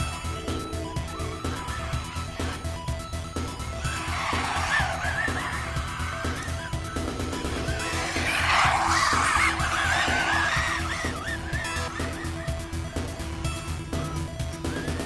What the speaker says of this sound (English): I like how these tires sound.